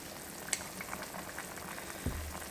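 Oxtail braising liquid, from grilled then braised oxtails, boils in a pot with a soft, steady bubbling hiss, broken by a couple of faint clicks.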